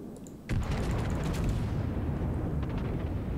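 Naval artillery shells fire in World of Warships with a sudden heavy boom that rolls into a long, loud rumbling tail and scattered cracks.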